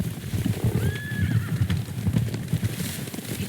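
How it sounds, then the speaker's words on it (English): Horses in the video game Ghost of Tsushima galloping with a steady, rumbling clip-clop of hooves, and one clear neigh rising over the hoofbeats near the middle. "Horses, they're coming for us."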